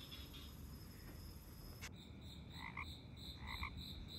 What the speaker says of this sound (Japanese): ヤモリやカエルの鳴き声も非日常的で楽しいです。